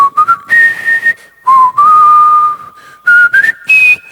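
A person whistles a music theme in several short melodic phrases, the tone clear and fairly loud with brief pauses between, no talking.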